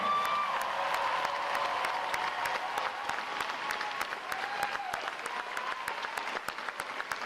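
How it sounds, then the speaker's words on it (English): A large crowd applauds steadily at a Navy boot camp graduation, dense clapping continuing throughout, with a few scattered whoops and cheers mixed in. "a round of applause for our family and friends for supporting your American sailor."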